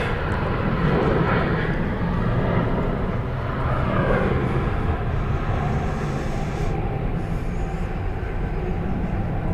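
Airliner at Seoul Incheon Airport, likely a Boeing 747, producing a steady, loud broadband jet roar that holds throughout without pause, with no talk over it.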